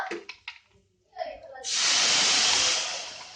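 A sudden loud, sustained hiss of water hitting hot oil with fried onions, sizzling steadily after a few brief clattering knocks at the start.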